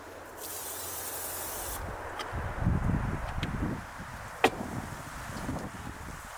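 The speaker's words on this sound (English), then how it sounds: "It's so nice to finally have cooking spray." Cooking spray hisses from a can inside a car in one short burst at the start, followed by quiet rustling and small handling clicks.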